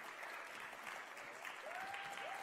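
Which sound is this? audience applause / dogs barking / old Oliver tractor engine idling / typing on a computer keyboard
audience applause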